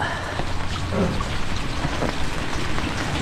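Steady rain falls in a dense, continuous hiss, close and fairly loud, with scattered drops and no voices.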